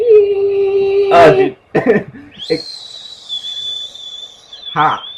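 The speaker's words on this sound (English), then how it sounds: "it does not pick up on your whistle" A person whistles a long, steady high note into a microphone, with brief breathy noises and a lower tone just before.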